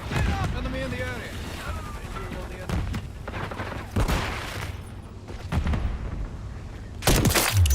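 Gunfire in Call of Duty Modern Warfare 3 multiplayer, with repeated sharp shots and bursts over continuous game noise and a loud blast near the end, while a player talks excitedly throughout.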